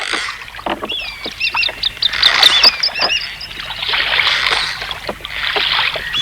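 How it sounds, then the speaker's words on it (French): A small boat glides along the water with gentle sloshing, while birds call and honk busily nearby throughout. "Oh, c'est agréable de se déplacer tranquillement en bateau."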